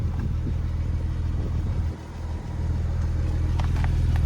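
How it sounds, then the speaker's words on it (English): A 2018 Porsche 911 Carrera 4S with its 3.0-litre twin-turbo engine, started with the key fob, settles into a steady, close, low idle that dips briefly midway before resuming, with no talking. "this is how you start the vehicle with the key fob, of course"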